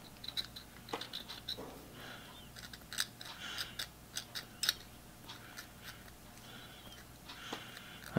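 Metal dental scraping tool picking and scraping at small internal pieces of a Millers Falls push drill chuck: faint, rapid scratchy ticks and short gritty scrapes in irregular bursts, close up, with no talking.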